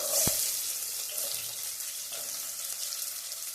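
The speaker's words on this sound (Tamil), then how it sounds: "பொரிஞ்சதுக்கு அப்புறம் நல்லா வெடிச்சு வரணும்." Steady crackling sizzle of seeds popping in hot oil, a dense continuous spatter with a brief sharp pop near the start, close and fairly loud.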